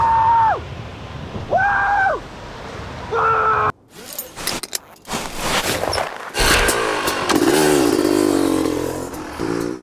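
A stunt motorcycle revs hard in rising and falling bursts, then the roar gives way to rushing wind and clatter as it launches off a cliff-edge ramp into free fall.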